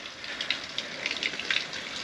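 Water flows steadily from a spring fountain outdoors in the Balkan mountains, a continuous close splashing gush with small bright spatters and no voices.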